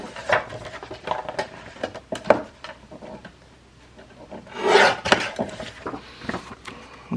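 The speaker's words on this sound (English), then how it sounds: "trim a little bit off of the top and the bottom of that Edith Holden page" A journal page from an Edith Holden kit is trimmed at top and bottom, with scattered rubbing and scraping strokes of paper and cutter, plus a longer louder scrape midway, up close.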